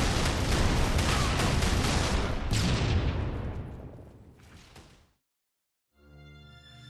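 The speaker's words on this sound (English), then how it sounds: "I hope the shrapnel and explosions don't cause any permanent trauma." Heavy explosions and shrapnel blasts from the Halo video game, a loud dense roar of booms and whooshes that fades out over several seconds, followed by a brief low rumble.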